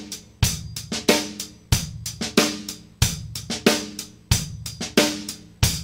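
A drum kit plays a repeating groove of kick and snare with sharp cymbal hits, soft ghost notes tucked between eighth-note strokes, close and steady over several bars with no voices.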